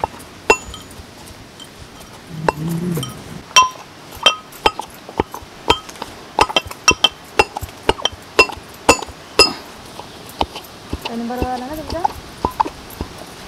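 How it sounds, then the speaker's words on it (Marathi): Poha papad dough pounded in a stone mortar and pestle, sharp irregular knocks and clinks close by, with a voice speaking briefly in between. "हे पीठ कुटण्यासाठी आता मी इथे खलबत्ता घेतला आहे."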